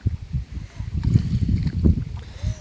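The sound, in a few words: small rowing boat moving on water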